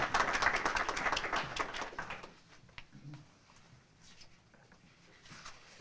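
An audience at a graduation stole ceremony applauds in a dense, moderately loud burst of clapping for about two seconds, then it quickly thins to scattered faint claps and room murmur.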